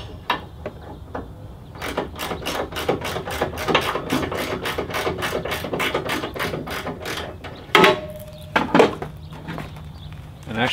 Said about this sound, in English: let's take out the two support bolts and see what happens.